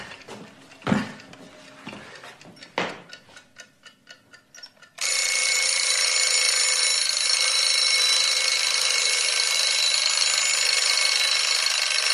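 Wind-up alarm clock being handled and ticking with a few knocks, then its bell bursts into a loud continuous metallic ringing that lasts for the remaining seven seconds.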